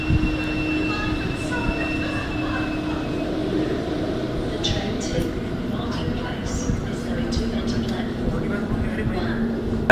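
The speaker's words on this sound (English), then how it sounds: "this is our metro train, the one that we just got off earlier, now arriving back at Gadigal for Marsden Place" Sydney Metro train pulling into the Gadigal station platform, a rumbling low rolling drone with a whining tone and brake squeals, close and steady, with a voice talking over it.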